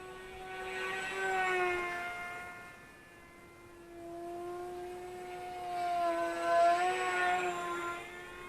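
Electric pusher motor of a Volantex Ranger G2 RC glider with 1200 mm wingspan, a steady tonal whine with harmonics that rises and falls as the plane passes, loudest near the start and again toward the end, with no talk.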